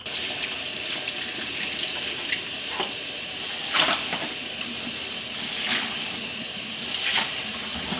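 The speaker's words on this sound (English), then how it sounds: "So I will partially fill it at the sink and then finish filling it on the stovetop with a small pot." Tap water running steadily into a stovetop canner at a kitchen sink, a continuous full hiss with small splashy surges, close and unaccompanied by talk.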